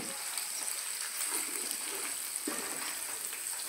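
Khichdi frying in a pan with turmeric and asafoetida while being stirred, a soft steady sizzle with a few faint scraping strokes, quiet and close.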